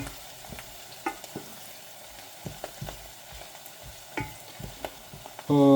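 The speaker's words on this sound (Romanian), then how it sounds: "Lăsăm ceapa să se ruminească, să schimbe un pic culoarea." Chopped onions frying and slowly browning in a pot over the heat for a cream of tomato soup, with a soft steady sizzle, scattered stirring scrapes and a louder clatter at the very end.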